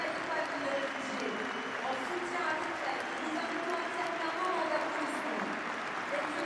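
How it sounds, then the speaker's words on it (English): Stadium crowd applauding at a Six Nations rugby match between France and England, a steady, dense wash of clapping and crowd noise that holds evenly throughout with no break. "Equally so, there is the applause"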